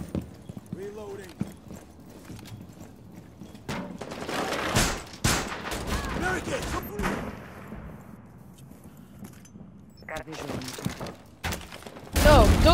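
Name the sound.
turret gun firing in Rainbow Six Siege video game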